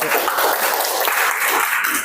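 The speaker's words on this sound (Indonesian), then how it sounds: "Ya, beri tepuk tangan" Applause from a classroom audience, a steady dense wash of clapping lasting about two seconds at moderate level with some voices mixed in.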